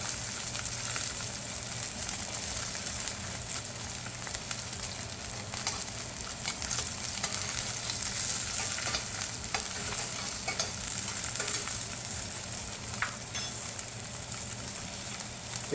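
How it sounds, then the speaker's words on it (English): Garlic sizzles and fries in a pan alongside seared halibut, a continuous soft hiss and crackle heard close but at low volume, with no talking. "I'll throw in the garlic."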